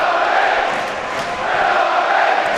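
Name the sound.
football stadium crowd reacting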